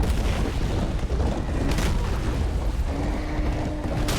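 A cannon fires in the video game Serious Sam, dense rumbling blasts rolling one into another with a few sharper booms standing out, loud and constant throughout.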